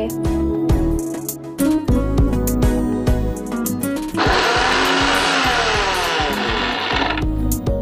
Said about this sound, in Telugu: మళ్ళీ ఒకసారి మిక్సీ పట్టేద్దాం